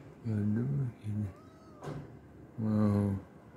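A cat meows close by, with two longer cries and a short one between them, and a soft rustle in the middle.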